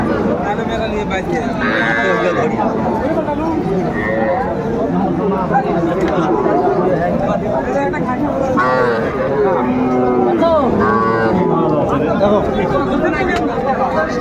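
Bull calves at a livestock market in Faridpur, with mooing and bleating calls mixed into a dense, constant crowd of traders talking and bargaining throughout.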